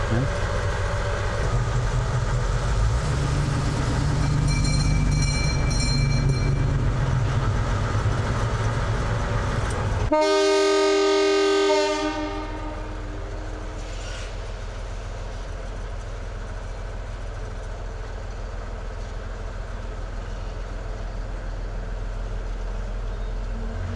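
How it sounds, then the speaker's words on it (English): A train rumbles loudly nearby, then its noise drops to a lower steady drone with clanking and squealing as it pulls away; faint voices are heard early on. "This train is due to leave about now. Let's see it go."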